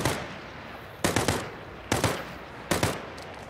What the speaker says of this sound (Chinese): 有人开枪，有人开枪。